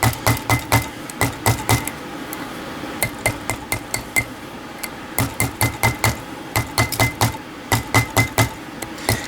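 Rapid bursts of sharp metallic hammer taps on a wire coil around a mandrel, struck in quick clusters separated by brief pauses, close and loud.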